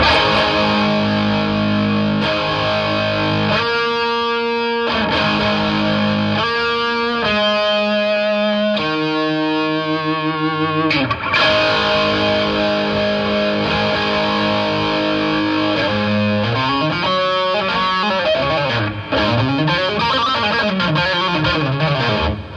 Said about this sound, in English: I'm playing a bunch of intervallics to give you mixed Lydian